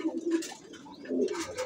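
Pigeons on a home rooftop loft cooing close by, a couple of soft low throaty coos in quick succession.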